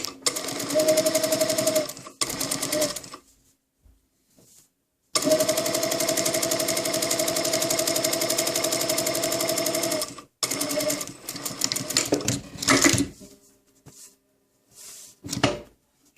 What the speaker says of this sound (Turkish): Şu şekil kırıp buraya bir dikiş atıyoruz